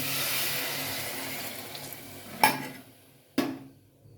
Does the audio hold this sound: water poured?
yes